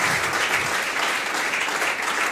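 A church congregation applauds in praise during a French-language worship service, a dense, steady wash of clapping from many hands that fills the room evenly throughout with no voices standing out.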